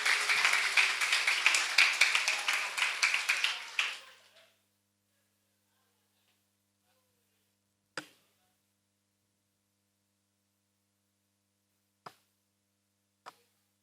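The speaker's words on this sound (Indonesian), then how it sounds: "Kita kasih tepuk tangannya dong." A school orientation audience applauds two visiting officials in a dense, lively burst of clapping that lasts about four seconds and then stops abruptly, leaving a few isolated sharp claps in the quiet afterward.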